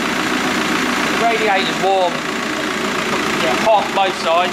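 A VW T5 Transporter 1.9 TDI engine idles steadily after a cylinder head refit, a close, continuous diesel rumble throughout, with someone talking over it.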